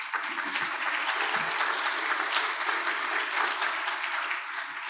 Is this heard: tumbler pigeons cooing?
no